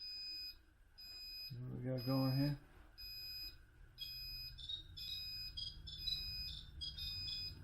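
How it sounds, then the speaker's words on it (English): An electronic alarm beeping on a Lowrance HDS 5 sonar unit, a high, steady series of pulsed tones close by, with someone speaking briefly over it. "Alarm."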